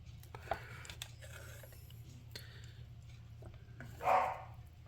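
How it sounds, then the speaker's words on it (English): A pet dog barks indoors during a dot-painting craft session at home: one sharp bark early and a louder bark near the end, both a little distant over a low steady hum and faint handling noises. "that's my dog barking"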